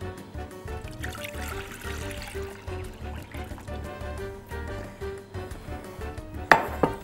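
Milk pours from a container into a dish while cocoa and chocolate dessert ingredients are prepared, making a soft, close trickling and splashing over a low background hum. A brief clatter of kitchenware comes near the end.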